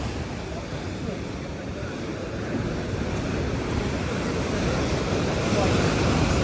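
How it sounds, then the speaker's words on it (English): Choppy sea on the Nerja coast in turned weather: a loud, continuous roar of wind-driven surf and gusting wind buffeting the microphone, building slightly stronger toward the end. "Choppy seas."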